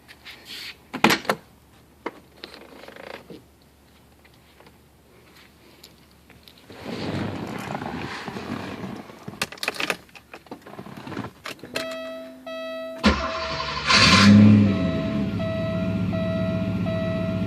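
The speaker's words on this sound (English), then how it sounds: "let's turn the car on and so you can see how she runs" A 1987 Porsche 928 S4 is started after a stretch of clicks, thumps and interior handling noises; the engine fires up quickly and settles into a steady, smooth idle with a faint electronic chime.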